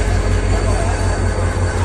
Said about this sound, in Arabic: هي القطار المصري